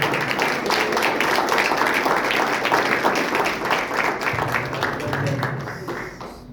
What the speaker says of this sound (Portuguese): Mais palmas que é para Jesus